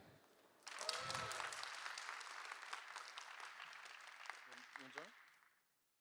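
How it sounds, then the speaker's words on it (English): Audience applause at a conference presentation event, a sustained burst of clapping from a crowd that starts abruptly, holds steady for about five seconds, then stops, with a brief voice over the middle. "Big round of applause for Aleksej again."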